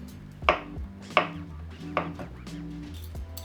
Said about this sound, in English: I'll cut the eringi trumpet mushrooms to a similar size